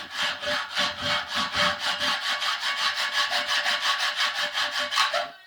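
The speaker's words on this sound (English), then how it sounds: "anything other than a hacksaw with a pretty dull blade" A hacksaw with a dull blade cuts a glass encoder rail in about twenty quick, regular back-and-forth strokes, close and fairly loud, then stops abruptly. No one speaks.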